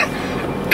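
A single cough or throat clear bursts out near the end of a short stretch of steady low background noise outdoors on a road after rain, close and fairly loud.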